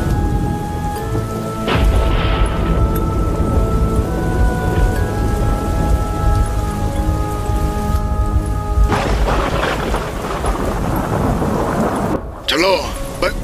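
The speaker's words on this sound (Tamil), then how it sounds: "வெளியே மழை பெய்யுது" Steady rain pours outside in a Free Fire animated game scene, a dense continuous wash with deep thunder rumbles beneath, a dramatic musical tone layered over it, and a sharp break near the end before sparse tonal sweeps.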